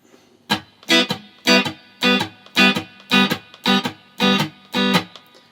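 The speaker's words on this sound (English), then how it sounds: "we need to start putting in the open strings on the upstrokes" Electric guitar playing a shuffle with open strings ringing on the upstrokes, nine evenly spaced strummed hits in a bouncing rhythm, close and clear with muted gaps between.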